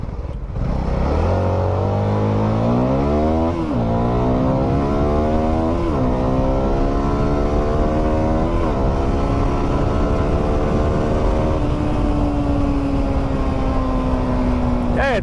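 CFMoto 250SR motorcycle engine riding stop-and-go through city streets, loud and close, with repeated revving climbs through the gears, brief drops between shifts, then a steadier tone near the end.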